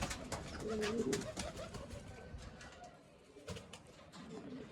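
Domestic pigeons in a home loft cooing, a low throaty call rising clearly in the first second amid steady bird chatter and rustling, then fainter coos later under the ambient noise.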